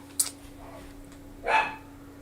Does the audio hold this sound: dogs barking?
yes